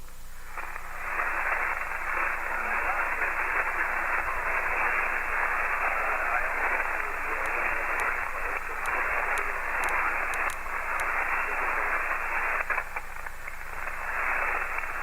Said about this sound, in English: it's extremely noisy down here. Sometimes I've got 20 over static crashes, so it's a little difficult.